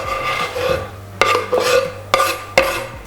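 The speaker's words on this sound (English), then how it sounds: "I'm also going to swap to a spoon, a bit easier for me to mix in." A spoon stirs seafood appetizer ingredients with red onion and coriander in a bowl, giving a close, loud wet scraping with a few sharp clinks against the bowl and no talking.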